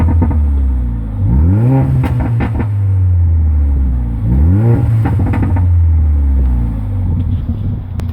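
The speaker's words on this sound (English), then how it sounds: "this is what the Sport Plus and the performance exhaust sounds like outside of the car" Mercedes-AMG A45 facelift (2015/2016) with performance exhaust in Sport Plus mode, heard from outside the car: two sharp rising revs that fall back to a deep idle burble, loud and close, with no talk.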